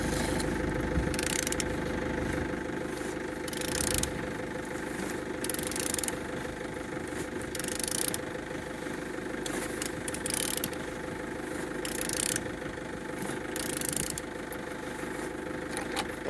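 A Nissan QG15DE four-cylinder petrol engine idling, a steady mid-pitched hum with light knocking and rattling, punctuated every couple of seconds by louder bursts of sound, with no talking.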